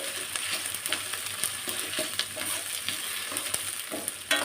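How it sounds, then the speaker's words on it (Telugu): Ginger garlic paste frying in a pan for chicken curry, a busy close sizzle broken by repeated scraping clicks of stirring, no voices. "ఇప్పుడు అల్లం వెల్లుల్లి పేస్ట్ వేసుకొని బాగా ఫ్రై చేయాలి"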